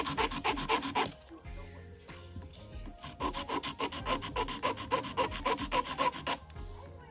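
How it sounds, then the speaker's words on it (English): An acrylic nail is filed in quick rhythmic back-and-forth strokes, close and scratchy, with a short pause before a second burst of steady rasping. "For filing over top of the nail, you want to start on one side of the nail"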